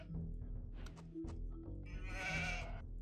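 Sheep bleating in the real-time strategy video game Age of Empires II, a few short nasal bleats followed by a longer wavering call, close and clear over a quiet low background hum.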